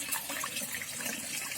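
A small pump-driven decorative waterfall made from recycled materials splashes steadily, a constant close, even rush of falling water without pauses.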